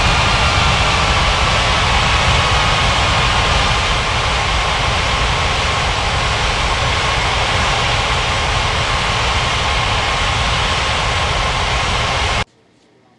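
An airliner taking off from runway 27 at Ngurah Rai Bali International in Unmatched Air Traffic Control, with a loud, steady jet engine roar that holds constant before cutting off abruptly near the end.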